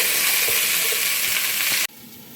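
Potatoes sauté in a pan with a loud, close, continuous sizzle and a couple of soft stirring knocks, cutting off sharply to near quiet after about two seconds.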